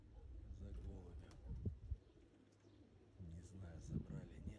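Pigeons coo in low, rolling phrases outdoors while falcons attack the flock, with a person talking over much of the scene.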